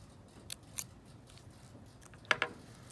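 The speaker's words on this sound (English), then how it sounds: "we're going to take our scissors and cut very small" Scissors snip small cuts into a folded paper edge, a few crisp short clips spaced apart, with a quick double snip near the end, close and fairly quiet.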